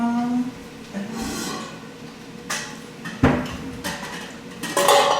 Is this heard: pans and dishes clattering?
yes